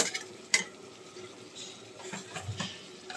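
Spices are stirred and fried in a pan for a rohu fish curry with brinjal and potato, giving a faint, soft sizzle broken by a few sharp scrapes and clinks of a spoon against the pan.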